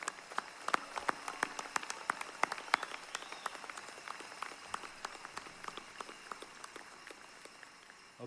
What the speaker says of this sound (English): So let's give our parents one more round of applause